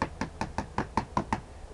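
Knocking on a door, a steady series of about eight sharp raps at an even pace, close and clear, ending in a brief higher-pitched sound.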